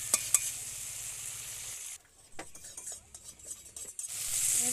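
Spice paste sautéed in oil for a small hilsa fish curry, a dense frying hiss with stirring scrapes that drops away midway into quieter utensil clinks before the sizzle swells again.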